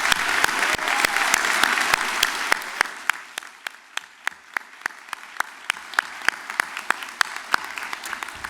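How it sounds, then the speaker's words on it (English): Convocation audience applauding in a large hall, dense clapping that thins out over several seconds into a few loud, close individual claps. "Join me in another round of applause for Dr."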